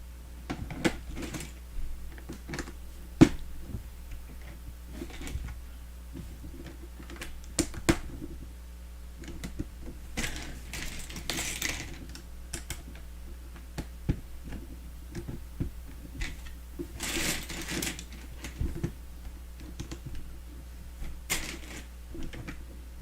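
Lego pieces from a Republic Gunship 75309 set shuffle and click in a steady scatter of small plastic ticks, close and fairly quiet over a low constant hum, with a few louder rattling bursts.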